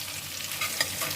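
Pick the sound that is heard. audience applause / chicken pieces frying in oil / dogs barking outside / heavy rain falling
chicken pieces frying in oil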